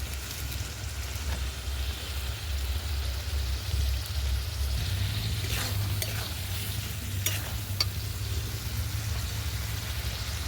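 Fish oil and eggplant fry in a pan with a soft, continuous sizzle, occasional stirring clinks and a low background hum, all fairly faint.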